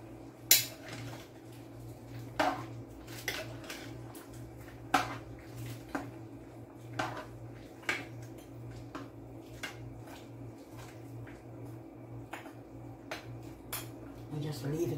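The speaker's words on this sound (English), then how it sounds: "Just stir it in right up, guys." A spoon scrapes and clinks against a pot while sweet potato stew with ribs and ham is stirred, giving soft, irregular taps every second or so over a faint background hum.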